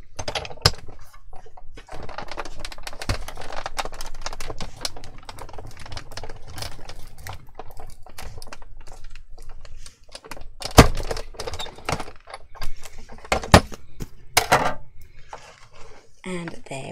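An embossing folder is cranked through a die-cutting machine between two cutting mats, giving a sustained dense crackling and clicking that builds to sharper cracks and pops near the end, close up.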